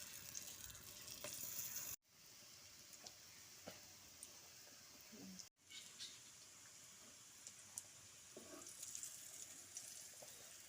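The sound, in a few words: dhoka lentil cakes frying in hot white oil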